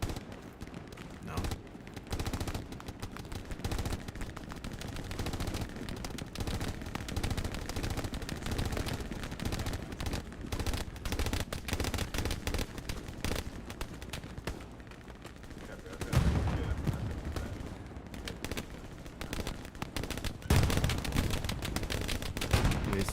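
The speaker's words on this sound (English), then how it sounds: "he's firing at that squad down there" Dense, near-continuous gunfire in the Hell Let Loose combat game: rapid machine-gun bursts and rifle shots, with a few louder heavy blasts, while players talk over the battle.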